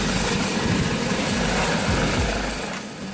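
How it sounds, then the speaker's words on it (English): Police helicopter flying overhead, a steady loud rotor and engine roar that fades slightly at the end. "Police helicopter."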